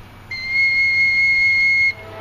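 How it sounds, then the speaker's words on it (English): A four-hole whistle blown hard with all holes covered, producing a single steady, bright, piercing tone held for about a second and a half, close and loud with no talk. "And then cover all the holes and blow fast."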